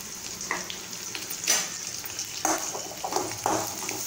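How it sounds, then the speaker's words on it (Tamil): Onions fry in a pan with fennel seeds under a soft, constant sizzle, with a few louder stirring scrapes now and then. "வெங்காயம் இப்போ நல்லா கொஞ்சம் வதங்கட்டும்"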